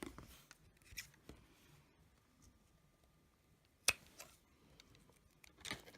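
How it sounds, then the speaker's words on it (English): Scissors trimming fabric for a custom LOL Surprise doll's Sailor Moon cosplay dress, with a few quiet, separate snips, one sharper than the others, in a near-silent room. "So I'm going to trim this."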